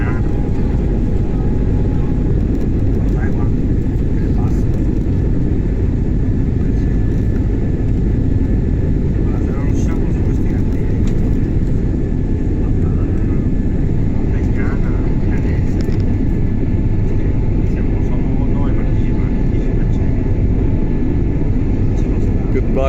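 Loud, steady jet engine roar heard from inside an airplane taking off from Palermo airport, a constant deep rumble that fills the whole stretch, with faint voices beneath it.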